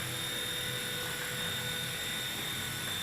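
A Silverlit Metal Copter toy helicopter hovers indoors, its small rotor and motor giving a steady, close, high-pitched whine that holds unbroken throughout.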